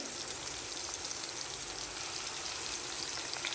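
Tamarind, curry leaves and coriander sautéing in a hot pan for South Indian vathaku chutney, giving a steady, even hiss of frying that stays constant throughout, with no voices.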